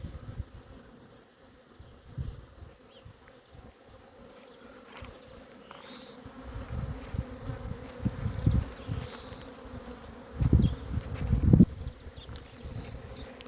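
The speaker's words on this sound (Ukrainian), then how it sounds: "Це вже справжній обльот. Бачите, всі вулики беруть водичку бджілки." Honey bees swarm around beehives on a cleansing flight, with a steady, dense buzzing drone of many insects nearby that swells louder at times as bees pass close.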